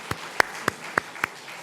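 Five sharp, separate claps spaced unevenly, each a crisp percussive snap, rather than a full crowd applauding, during a Sunday church service.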